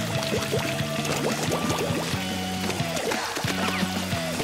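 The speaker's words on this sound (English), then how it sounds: "Looks like ink is leaking out of that pipe." Ink leaks out of a pipe in the video game Splatoon, a steady liquid pouring and gurgling sound with bubbly, repeating splashes, close and alone without speech.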